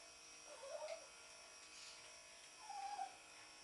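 A quiet electric hair clipper used for grooming buzzes faintly in two short bursts, separated by a near-silent pause.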